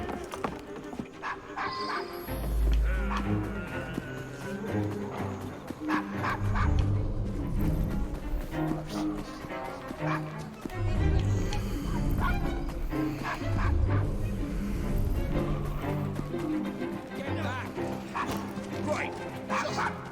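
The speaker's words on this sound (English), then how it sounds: "No, quiet. Bad dog." A dog barks repeatedly in the Assassin's Creed Syndicate video game, with yips and whimpers, hoof clip-clops and frequent character dialogue over the street scene.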